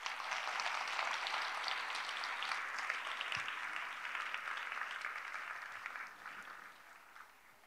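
A congregation applauds during an evening revival service at a winter youth church camp, a dense sustained wash of clapping from a large room that holds steady, then thins and fades toward the end.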